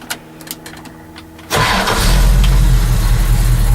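A car's starter cranks briefly and the engine catches with a loud jump into a steady, rumbling idle. It is a warm start, with the car up on jacks and a few light clicks beforehand.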